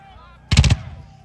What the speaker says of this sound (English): Notice that the Federal guns are beginning to reply over on the far right.